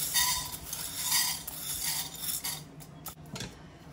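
Dry toor dal and rice go into a hot roasting pan together and are stirred for a homemade curry powder, producing close, soft rattling and scraping with light metallic clinks.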